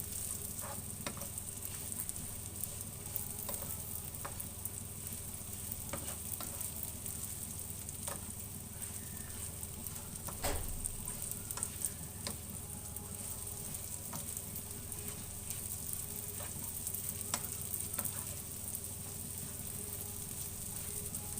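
Bread frying in ghee with cumin, dried coriander and pepper, a steady close sizzle with occasional scraping and clinks from stirring.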